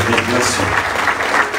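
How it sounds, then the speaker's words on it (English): Brief burst of congregation applause in a church during a Sunday service, loud clapping heard under a speaking voice for under two seconds. "Okay, let's give her a round of applause."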